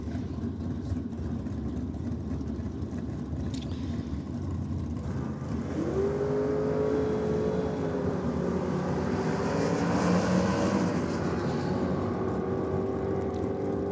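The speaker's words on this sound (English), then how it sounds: "Good side-by-side drag race between these two" A side-by-side drag race at a strip, including a 1975 Holden LH Torana running a small-block Chev 400, with loud, steady engine roar that rises in pitch as the cars accelerate and then holds a sustained drone.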